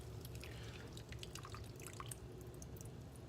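Water trickles and drips steadily from squeezed grated zucchini in a home kitchen, a continuous close patter of small droplets over a low background hum, with no talking.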